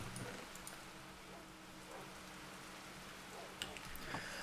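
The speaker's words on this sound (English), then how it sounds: "can the rain please stop?" Rain falling in a Minecraft modpack video game, a faint, steady hiss with a few scattered soft ticks and no voices.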